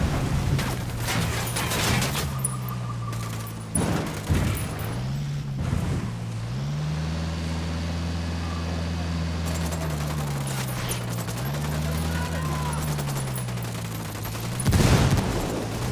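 Gunfire in the video game Ghost Recon Wildlands, with bursts of automatic fire at the start and end around a sustained droning engine-like hum, loud and close.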